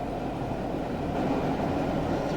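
Class 421 electric train in Train Sim 2021, eight coaches on the Gatwick to Brighton run, giving a steady, dense rumble of running noise that holds level throughout.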